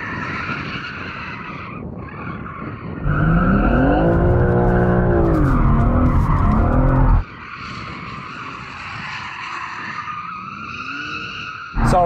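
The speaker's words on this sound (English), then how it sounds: "Oh, let's warm up the tyres first though." A four-wheel-drive, 600-horsepower BMW M3 set to rear-wheel drive spins its tyres to warm them, a loud sustained screech with roaring engine for several seconds, then dropping back to idle before revving again.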